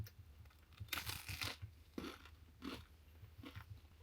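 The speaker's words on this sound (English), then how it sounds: "Listen to this crunch." Crunchy food bitten and chewed inside an RV, a handful of crisp, crackling crunches in separate bursts, close and fairly quiet, with no talking.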